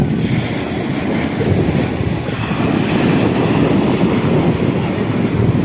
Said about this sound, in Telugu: పెద్ద పెద్ద అలలు వస్తున్నాయి